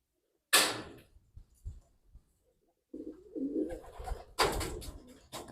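A pigeon held in the hand while its broken feathers are being repaired, giving a few soft flutters and brief rustling sounds near the microphone, with a louder burst of wing flapping toward the end.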